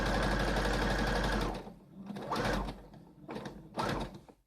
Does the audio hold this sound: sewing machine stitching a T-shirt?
yes